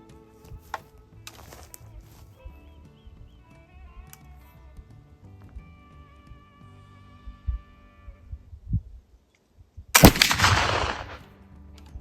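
A muzzleloader rifle fires one loud, close shot near the end, a sharp blast with a trailing roar, after quieter clicks, handling knocks and low background rumble.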